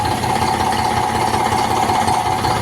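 An Eicher 485 tractor diesel engine idles steadily with a constant low rumble and vibration, loud and close with no talk over it.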